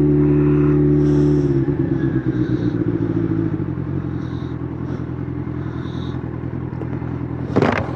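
A Kawasaki Z900 inline-four motorcycle engine idles loud and close with a smooth, steady rumble that dips slightly partway through, followed by a brief sharp burst at the end.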